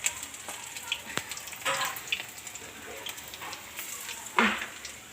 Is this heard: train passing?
no